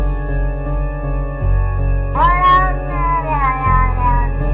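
A domestic cat meows loudly and close up in a long, drawn-out wavering call that rises and bends in pitch, with no other sounds around it.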